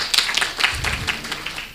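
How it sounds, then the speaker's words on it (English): Audience at a human resources and ICT forum applauding, a brief spatter of hand claps, moderately close and fairly sparse, with no talk over it. "A round of applause for her"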